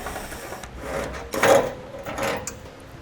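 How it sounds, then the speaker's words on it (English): A 10mm socket wrench ratchets fasteners loose on a 2016 Volvo XC90 during a trailer hitch install, giving a few close, rasping clicks and scrapes, loudest in bursts near the middle. "I'm going to be using a 10mm socket to remove them."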